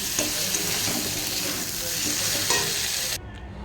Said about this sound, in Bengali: মশলা আমার পুরো লাল লাল করে কষা হয়ে গেছে এবার আমি জল দিয়ে দেবো